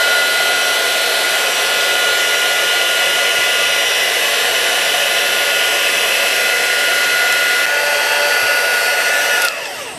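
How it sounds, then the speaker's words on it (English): A Stampin' Up! heat tool blows steadily on its second level for papercraft embossing, a loud continuous whirring rush of air that holds even throughout and cuts off at the very end. "this Stampin' Up! Heat tool has got 2 different levels. I'm going to use the number 2 level"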